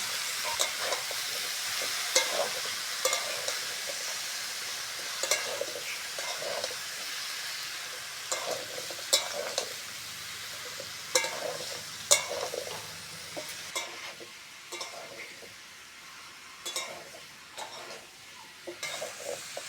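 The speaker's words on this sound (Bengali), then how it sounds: "এবার কেটে রাখা সবজিগুলো দিয়ে দেবো।" Chopped vegetables frying and being stirred in a pan for a Bengali fish-head and pumpkin labra dish, a steady sizzle with repeated scraping stirs and clinks of the spoon throughout.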